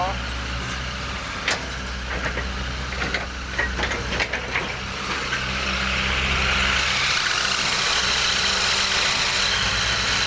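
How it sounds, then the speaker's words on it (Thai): A racing farm tractor engine runs close by at a pond-digging site, a low rumbling idle with scattered clanks early on, then rising to a steadier, louder drone toward the end. "รถไถซิ่ง"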